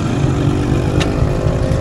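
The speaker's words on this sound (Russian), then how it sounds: "О, Макси-скутер поехал." Maxi-scooter pulling away nearby, a steady buzzing engine drone under heavy wind rumble, with a brief high whine midway.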